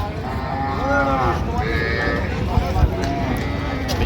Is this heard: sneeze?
no